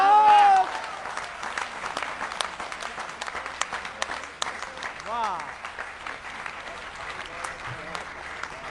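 Applause ripples through the audience at a Hindi kavi sammelan poetry recital, a burst of clapping at the start that trails off into scattered claps beneath someone speaking and exclaiming.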